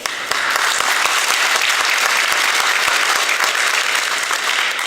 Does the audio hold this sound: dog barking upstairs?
no